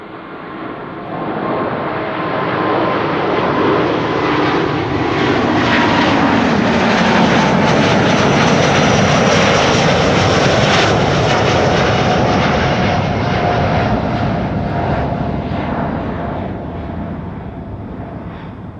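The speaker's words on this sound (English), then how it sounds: "Delta Airlines Flight 73 to Atlanta will also be leaving pretty soon." Airliner jet engines roar at Amsterdam Schiphol Airport, a loud, sustained broadband rush that swells and fades slowly over nearly twenty seconds as a plane passes close by, with no talk over it.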